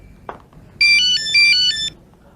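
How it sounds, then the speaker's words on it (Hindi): A phone ringtone plays a bright, repeating electronic melody for about a second, clear and fairly loud over a faint room hum in an office. "एक मिनट चलो, रुको, फोन आ रहा है।"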